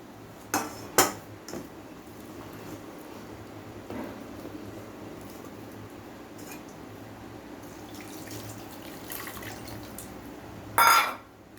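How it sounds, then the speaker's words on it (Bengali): Butter churned from milk cream being rinsed in water while making homemade ghee, with soft watery sloshing, a few sharp utensil clinks near the start and a louder clatter at the end, close and fairly quiet. "এখন এটাকে আমি জল দিয়ে ধুয়ে নেব।"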